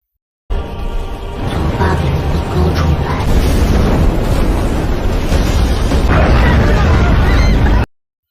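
A loud, roaring blast swells and sustains for several seconds, a dense rumbling explosion that fades abruptly at the end.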